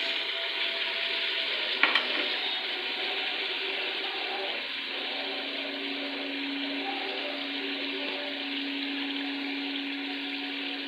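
Chicken masala frying with slit green chillies in a pan, giving a steady, dense sizzle with occasional stirring scrapes and one brief knock near the start, no talking.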